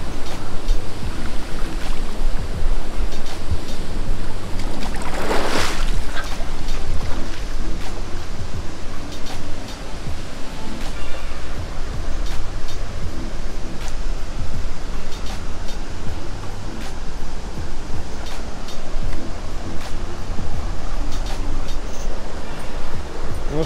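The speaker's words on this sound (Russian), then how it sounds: "вот мы находимся практически уже за водопадом" Steady, loud broadband rush of falling water fills the whole span, heard from a spot just behind the Grand River South East Waterfalls in Mauritius, with a brief louder surge near the middle and no talk.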